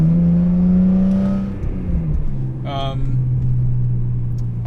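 A BMW M3 with the S54 engine pulls while driving, a loud steady engine drone that dips briefly then resumes at a lower pitch, with a short higher whine partway through.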